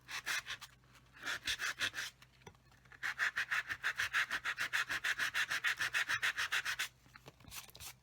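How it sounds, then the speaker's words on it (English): A sanding block rubs an ink smudge off white card in quick rasping bursts, a short pass, a pause, then a long run of rapid even strokes followed by a brief final scrub. "Using the sanding block,"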